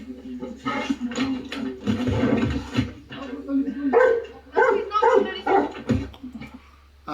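Dog barking repeatedly and agitatedly in bursts, close by, mixed with people talking over it throughout.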